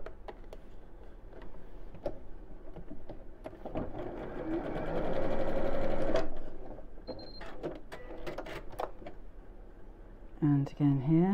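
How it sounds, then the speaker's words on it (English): Sewing machine stitching across the folded-over ends of a fabric drawstring bag, a steady mechanical whir with fast needle ticking that swells in the middle, with brief speech and handling sounds around it. "And I'm going to fold the ends over by about 1/2 inch and just sew over the ends."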